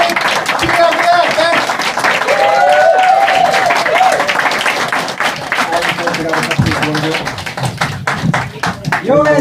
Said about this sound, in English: Give yourselves a Greek round of applause.